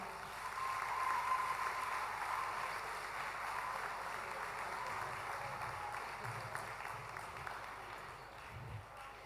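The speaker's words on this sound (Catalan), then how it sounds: "Un fort aplaudiment" Audience applause at a ballroom dance championship event in Catalonia, a steady, fairly faint wash of clapping that sounds somewhat distant and holds evenly for about nine seconds with no voices over it.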